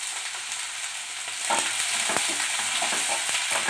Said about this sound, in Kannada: ಇದನ್ನ oil ಅಲ್ಲೇ fry ಮಾಡಬೇಕು